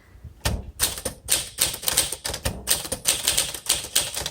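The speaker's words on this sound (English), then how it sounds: "Let's do some typing." Rapid, close keystrokes on a 1952 Smith Corona Silent manual typewriter, with sharp clacks in an irregular rhythm and small mechanical thumps between them.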